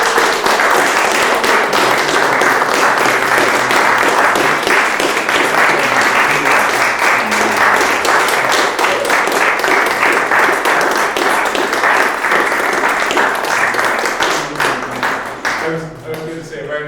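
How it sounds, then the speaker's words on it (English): Sustained, loud audience applause closing a lecture session on the evolution of the Irish harp, dense clapping filling the room for about fifteen seconds before tapering off at the end. "a round of applause big enough to echo right across the Atlantic"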